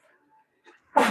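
A single sudden sneeze bursts out near the end after a few quiet murmurs, loud and close.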